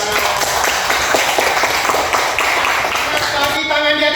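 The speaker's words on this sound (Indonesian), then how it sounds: "Tepuk tangan." Students in a classroom applaud together, a steady dense patter of many hands clapping throughout with voices mixed in, close and fairly loud.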